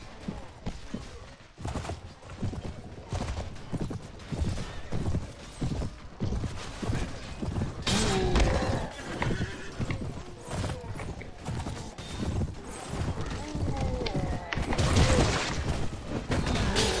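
Cavalry horses charge in the PC battle game Mount & Blade: Warband, a dense continuous drumming of many hooves with occasional neighs, clashes and crashes, loud throughout.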